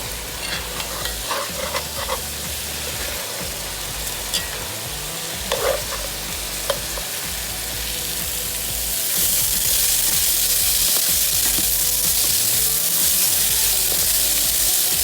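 Carrots for a gravy are stirred in a hot pan, a steady sizzle with scraping spoon strokes along the bottom and sides, growing louder and denser toward the end.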